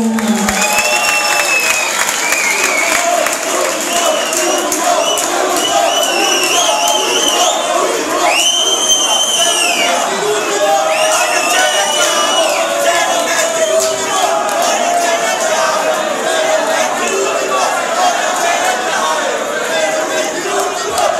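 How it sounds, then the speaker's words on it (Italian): A club crowd at a Christmas event at Bolgia cheers, whistles and applauds for DJ Luca Agnelli, a loud continuous roar with shouts and rising whistles layered over the clapping. "l'applauso per Luca Agnelli"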